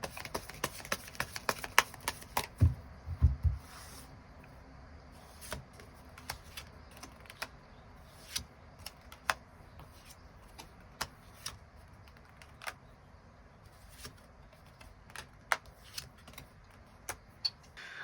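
Tarot cards being shuffled and handled before extra cards are drawn: soft, close, irregular riffles, taps and snaps scattered over a quiet background, with no talking.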